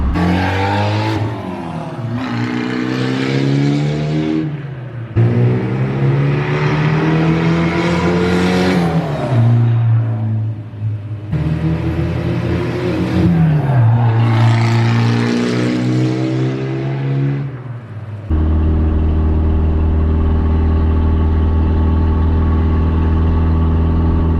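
A Mitsubishi Eclipse GSX fitted with a Megan Racing downpipe makes loud, close drive-by passes, revving up and shifting through the gears, then settles into a steady, throaty idle.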